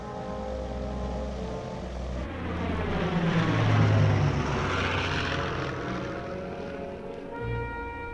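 Propeller engines of a large airliner, the Junkers G-38, droning steadily as it flies, a loud continuous hum that swells and eases slightly, with no voices.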